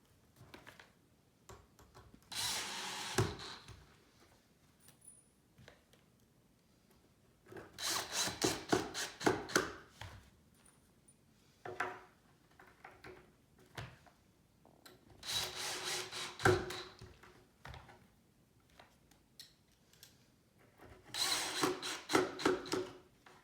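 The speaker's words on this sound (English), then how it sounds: "they're all just pre-drilled, they'll self-align as you're screwing them in" Screws are driven into pre-drilled holes in a wooden farmhouse shoe bench during assembly, in four or five separate bursts of whirring power-driver sound with short quiet pauses between them.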